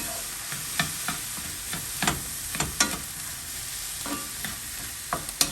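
Mushroom fried rice with soy sauce being stirred in a pan, a spatula scraping and tossing in irregular bursts over a steady close oil sizzle, no voices.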